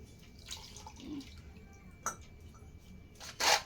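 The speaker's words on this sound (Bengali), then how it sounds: "তুলসী পাতাগুলোকে চলো ধুয়ে নিই।" Tulsi basil leaves being rinsed in water make soft drips and splashes near the listener, with a few sharper sloshes and a louder splash at the end.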